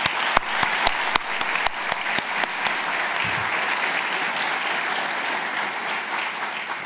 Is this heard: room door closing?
no